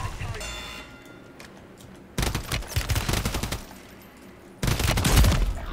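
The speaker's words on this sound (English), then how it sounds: "Where those shots are coming from" Gunfire in the Warzone video game comes in dense rapid bursts, with one sustained volley and a second louder burst near the end, heard under a player's voice chat.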